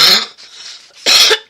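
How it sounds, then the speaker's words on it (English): A woman with a lingering cough, heard close up: two harsh bursts of coughing separated by a brief raspy breath, loud and with no speech. "I should be over this cough by now."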